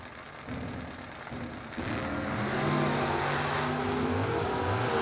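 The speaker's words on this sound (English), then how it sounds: "The 70 Nova dials up 673. Going to get chased by Austin Richardson, dialed 610. 67 Chevelle, right side" A 1970 Nova and a 1967 Chevelle race on a drag strip, their engines building into a loud, rising roar that grows stronger and fills the air with layered revving tones.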